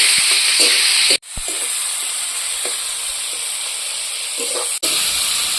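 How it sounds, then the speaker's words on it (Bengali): Fish pieces fry lightly in hot oil with a loud, close, continuous sizzling hiss, broken by two brief near-silent dips and a few faint knocks in the pan. "মাছগুলো আমি হালকা করে ভেজে নিচ্ছি খুব কড়া করে ভাজবো না"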